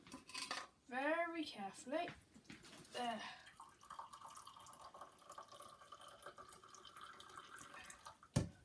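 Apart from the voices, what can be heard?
pouring boiling water for tea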